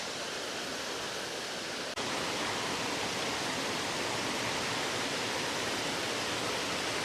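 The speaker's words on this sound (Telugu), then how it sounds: "ఒక్కొక్క దగ్గర ఒక్కొక్కలాగా వాటర్ ఫాల్ పడుతుంది అనమాట" The Rampa waterfall cascades down a hillside beside a trekking path, a steady, dense rushing roar of falling water that carries on unbroken.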